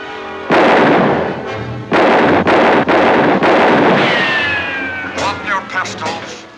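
A volley of loud, close pistol gunshots in an old radio drama, several sharp blasts in quick succession followed by fading ricochet-like tails and a few lighter pops.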